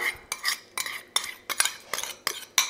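Coarse Guérande sea salt stirred into cold water with a utensil, a run of sharp scraping clinks repeating about every third of a second, close and clear with no voices.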